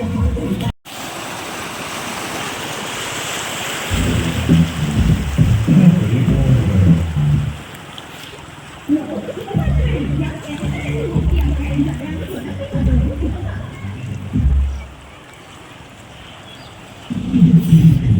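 Floodwater surging dangerously through a village channel toward a river, where people are fishing, gives a steady broadband rush with heavier low rumbling surges coming and going throughout.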